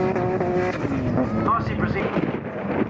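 A drift car skids around a corner at a drifting event, tyres squealing and engine revving hard up close, with the pitch sliding as it slides through, under a commentator's running talk.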